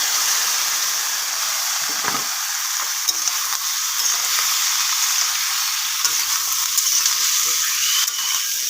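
Potatoes and vegetable drumsticks fry in oil left over from frying dried fish, giving a steady, close, loud sizzle with occasional stirring scrapes throughout.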